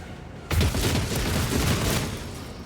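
Sustained gunfire in the video game Rogue Trader, a loud dense barrage of shots and booms that erupts after a brief quiet lead-in and continues steadily throughout.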